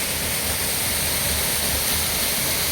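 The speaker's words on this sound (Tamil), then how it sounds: "இதெல்லாம் காந்தலூரில் இருக்கக்கூடிய கீழாந்தூர் வாட்டர் ஃபால்ஸ் இதுதான்" Keezhanthoor waterfall in Kanthalloor, Munnar, pours with a steady, dense roar of falling water, loud and unbroken throughout with no voices.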